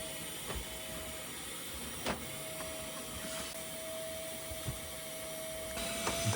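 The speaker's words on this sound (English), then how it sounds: "We start by vacuuming the floor and then removing the carpet." A vacuum cleaner runs steadily across the floor of a rusty Skoda pick-up truck, a constant close hiss and drone with occasional brief knocks and scrapes as the nozzle moves about.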